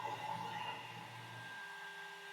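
A CNC router runs in a workshop with a steady, faint whirring hum and a high tonal whine that holds unchanged for a couple of seconds, with no talk.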